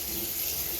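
Water runs from a tap in a short burst while a shaved head is rinsed, a close, continuous splashing rush with no talking.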